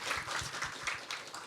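Audience clapping at a school admissions briefing, a steady patter of many hands with no pause and no voices over it.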